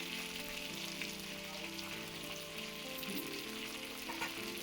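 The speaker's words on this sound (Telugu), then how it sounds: "తర్వాత అదే నూనెలో కరివేపాకు, ఉల్లిపాయలు వేసి బాగా వేపాలి." Curry leaves and onions sizzle steadily in hot oil in a pan, a dense continuous frying hiss that holds close and loud throughout with no talking.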